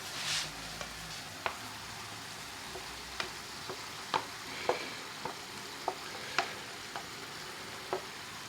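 Oil in a pan for Indian base gravy, a soft steady sizzle with scattered sharp pops and crackles at irregular intervals, fairly quiet and close, no talking.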